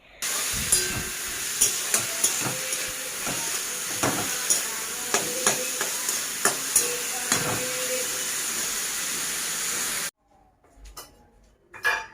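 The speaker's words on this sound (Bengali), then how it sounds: "বেশিটা কিন্তু ভাজছি না অল্প একটু ভাজছি" Food fries in a pan, giving a steady hiss with repeated metal clinks from stirring, continuous for about ten seconds before stopping abruptly, followed by a quieter stretch with faint knocks.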